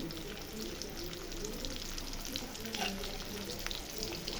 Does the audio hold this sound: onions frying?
yes